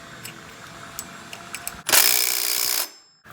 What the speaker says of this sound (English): I'm going to put my bolt back in and tighten everything down.